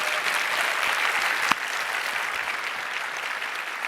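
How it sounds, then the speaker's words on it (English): At a State Bar of Texas annual meeting luncheon, a room of attendees gives the staff a round of applause, steady dense clapping holding evenly throughout with one sharper clap standing out. "round of applause for the staff that's here today"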